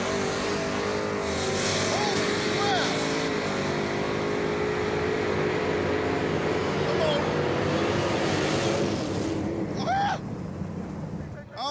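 A Pontiac Firebird drag car roars down the track in one long, loud, sustained engine run, its pitch shifting as it accelerates, with voices faintly mixed in near the end.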